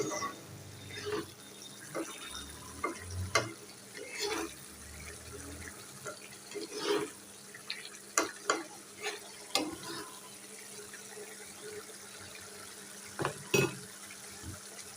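Fish curry cooks in a pan with a little sauce kept in it, scattered scraping stirs and soft bubbling sounding intermittently at moderate level, with some low handling noise between.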